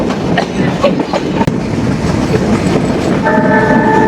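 The Kapataksha Express, a Khulna to Rajshahi train, rumbles past loudly near Pakshi railway station in Bangladesh with continuous wheel clatter. A sustained horn blast joins in during the last second or so.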